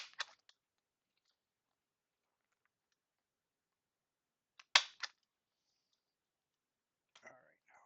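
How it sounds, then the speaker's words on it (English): Quiet crunching while someone chews food at a fly-tying bench, a few short crisp bursts spread across long silences, close to the microphone and faint overall. "Hopefully that crunching wasn't too loud."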